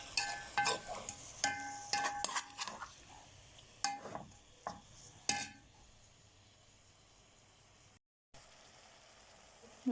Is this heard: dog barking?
no